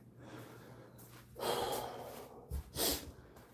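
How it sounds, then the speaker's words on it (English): Heavy nasal breathing during an indoor home-gym arm workout: a few forceful inhales and exhales through the nostrils, close and audible over faint room noise. "I tend to do a lot of nostril breathing"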